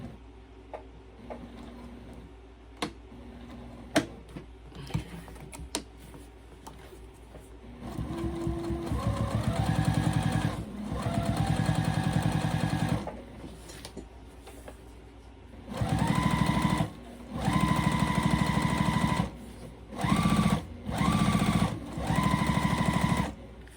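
Sewing machine stitching a fabric crossbody bag strap, bursts of rapid mechanical whirring that start and stop several times, close and loud, with quiet pauses between runs.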